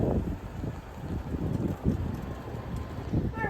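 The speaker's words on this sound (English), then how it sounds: "It is so windy out there." Strong wind blows outdoors on a cold day, buffeting the microphone with uneven low rumbling gusts that rise and fall throughout, with no clear talk over it.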